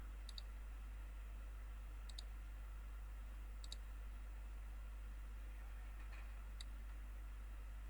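A computer mouse clicks while someone draws with the pen tool in Illustrator: four faint, crisp double clicks at uneven intervals over a steady low electrical hum.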